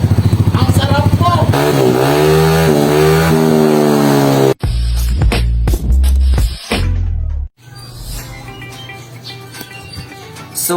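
Motorcycle fitted with a Villain GP2 carbon exhaust pipe revving loudly up close in a shop, rising throttle sweeps followed by sharp bursts and cut-offs, then a rougher idle.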